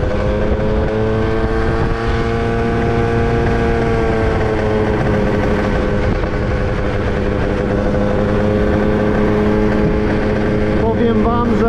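A 2000 Italjet Dragster two-stroke scooter rides along at a steady pace, its buzzing engine drone holding loud and close with some wind rush across the microphone.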